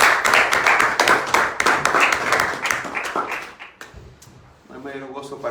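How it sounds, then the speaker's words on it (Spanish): Applause in a church congregation for a brother newly baptized the previous Sunday, a burst of clapping that thins out and gives way to a speaking voice near the end. "Damos un aplauso al hermano que se acaba de bautizar el domingo pasado"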